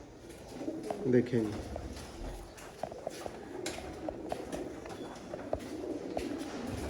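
Sialkoti pigeons coo in soft, repeated low calls, strongest near the start, with someone talking over them and other bird chatter around.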